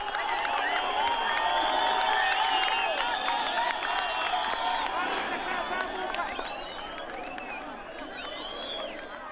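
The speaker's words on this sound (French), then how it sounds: "Des milliers de personnes applaudissent le premier sprint de cette étape" Thousands of spectators along town streets in Muhanga, Rwanda, applauding and cheering a bicycle race sprint during the Tour du Rwanda, a dense, steady wash of clapping, whoops and crowd noise that fades slightly toward the end.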